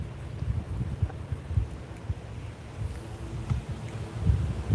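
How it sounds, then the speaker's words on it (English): Strong wind buffets the microphone outdoors during a fishing trip, low rumbling gusts that rise and fall unevenly over a few seconds, close and fairly loud with no talking. "It's windy enough to knock you over."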